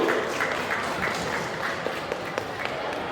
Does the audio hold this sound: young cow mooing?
no